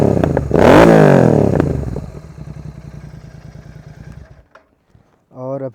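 A Royal Enfield GT 650 with an aftermarket exhaust is revved hard in one loud, close blip, then drops back to a chugging idle before the engine cuts off, with a voice speaking briefly at the end.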